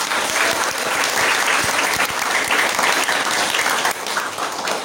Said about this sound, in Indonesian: Kasih tepuk tangan buat Mas Ikrom.